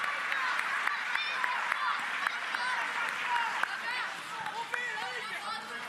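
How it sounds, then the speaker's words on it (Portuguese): An audience at a church gathering bursts into applause, a steady wash of clapping mixed with crowd chatter and voices throughout. "Um aplauso pro Rio de Janeiro"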